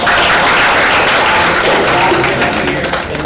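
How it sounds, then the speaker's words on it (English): Students at a school Shark Tank event applaud themselves, loud, dense clapping from a close crowd that holds steady for a few seconds before starting to fade. "Give yourselves a round of applause"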